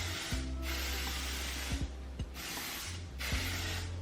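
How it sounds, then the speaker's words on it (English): Hairspray misted onto hair in a few separate bursts of airy hissing, each about a second long, close and with faint rustling handling in between. "And then I just take my hairspray"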